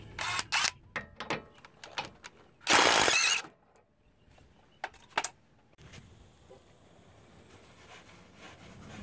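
Ratcheting wrench turning a 15mm reverse-thread adjusting nut on a Jeep XJ steering box, a series of close, sharp clicks and short bursts with a loud rasping ratchet pass near the middle, quiet mechanical handling between.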